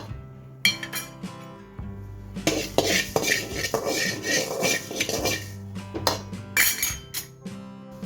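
Fenugreek seeds are dry-roasted in a pan, producing clinks and metallic scrapes as they are stirred, in irregular bursts that grow busier in the middle and then ease off.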